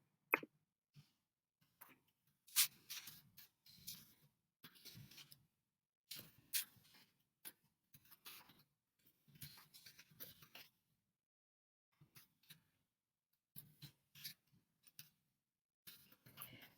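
Soft, sparse keyboard clicks and taps come in short irregular bursts with quiet gaps between them, close by and faint.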